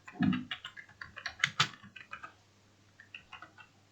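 JavaScript code is typed on a computer keyboard in a quiet room, with a quick, uneven run of close key taps and clicks lasting a few seconds, no voice.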